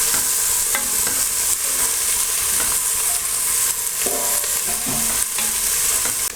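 Onions and green chillies fry hard in a pan for country chicken pulusu, giving a loud, dense sizzle with repeated scraping and stirring clatters throughout and no talking.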